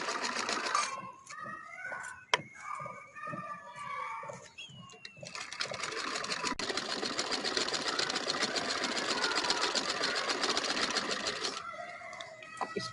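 A sewing machine stitching off-white trouser fabric, a steady fast mechanical whirr in a long run after earlier short bursts, with someone speaking softly at times.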